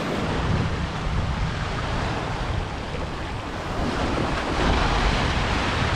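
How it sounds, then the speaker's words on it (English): Rough ocean surf churns steadily at the very end of Colt State Park in Bristol, Rhode Island, a loud continuous roar of breaking waves mixed with gusty wind buffeting the microphone, with no voices. "those waves are rough"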